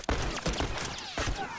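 Gunfire in The Last of Us multiplayer: a few sharp, close shots in quick succession, with a brief gap before another burst, loud and alone without talk.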